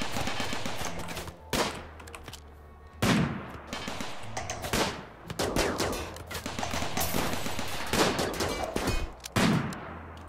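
Gunfire in the RimWorld colony game, repeated loud shots and bursts firing irregularly over about ten seconds, each crack cutting through a steady low background.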